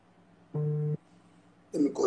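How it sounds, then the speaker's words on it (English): A telephone call tone sounds once as a single clean steady burst of about half a second, fairly loud against low background hum, followed by a short stretch of speech. "Let me call this woman."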